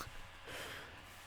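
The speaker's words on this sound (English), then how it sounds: "I'll just blow my nose a second" A person blows their nose once, a short, breathy, muffled honk with snorting air, fairly close and quiet, heard alone.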